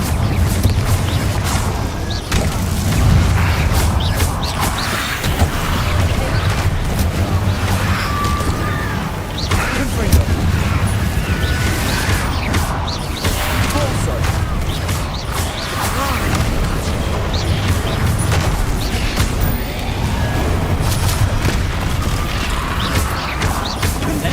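Hogwarts Legacy spell explosions from Incendio, Bombarda and Confringo, a dense, continuous stretch of booms, crashes and mechanical clatter at a fairly loud level, with some voices in the mix.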